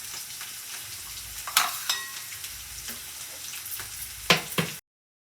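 Garlic and ginger frying lightly in a pan, a steady close sizzle broken by several sharp stirring scrapes and clinks, continuing for a few seconds before stopping abruptly.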